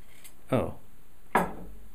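A glass tips over during a whisky tasting and clatters on a hard surface, two sharp close knocks about a second apart.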